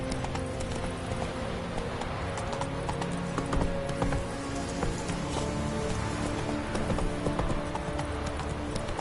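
Roach, the horse in The Witcher 3, galloping: rapid rhythmic hoofbeats drum on without pause under a steady hiss of rain, with no talk.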